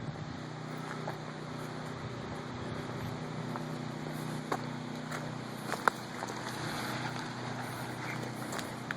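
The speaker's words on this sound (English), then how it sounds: "The wind's blowing sticks by." Gusting wind blows steadily outdoors in Kenilworth, New Jersey, in the aftermath of Hurricane Sandy, carrying sticks past. It is a constant broadband rush with a few faint knocks and clatters.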